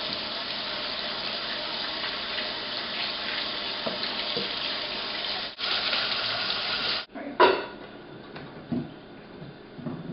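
Muddy potatoes are washed under a running tap, a steady hiss of water splashing into a sink that shifts and cuts out briefly before resuming with clattering handling sounds, close by with no voices.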